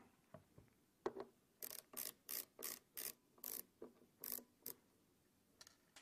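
A screwdriver undoes the screws on a Promise Pegasus drive enclosure, giving a faint, close series of quick ratcheting clicks in short uneven bursts with brief pauses between.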